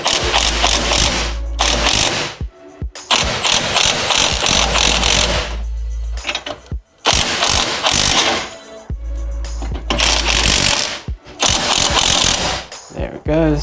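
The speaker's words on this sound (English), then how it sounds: "we can now start loosening up the spring compressor" A spring compressor is loosened during a lowering spring and shock absorber swap on a Ford Focus Mk1, heard as loud, close ratcheting in repeated bursts separated by short pauses.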